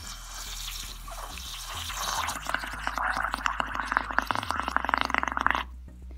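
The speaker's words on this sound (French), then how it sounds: "lorsqu'on souffle, ça fait des bulles" Dense bubbling and gurgling of air blown into dish soap water, building into rapid popping bursts before stopping abruptly; close and fairly loud.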